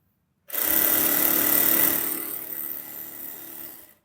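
A sewing machine stitches Afghani salwar fabric, starting abruptly in one fast, continuous whirring run that holds steady, then eases slightly before stopping near the end.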